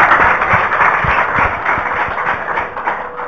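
Audience applause at a school quiz show, a steady dense clapping from a crowd lasting the whole stretch, fairly loud and close.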